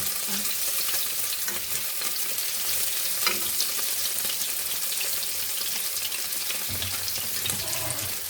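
Steady, crackling sizzle of chicken frying in a hot pan, continuous and fairly close, with occasional faint clinks and a brief watery hiss.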